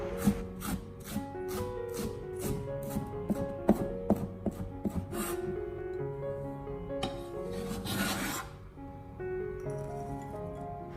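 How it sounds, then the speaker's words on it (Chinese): A kitchen knife chops scallions into small rings on a cutting board, giving a run of quick, crisp taps at the start, followed by a few scattered cuts under soft background music. "然后再继续准备少许的小葱，将它改刀切成葱花"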